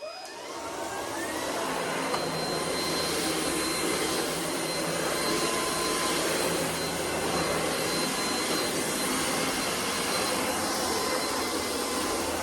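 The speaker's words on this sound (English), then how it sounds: "Oh, I love this little vacuum cleaner." A vacuum cleaner whirs loudly and continuously after a quick start-up, a high whining hum that holds steady throughout.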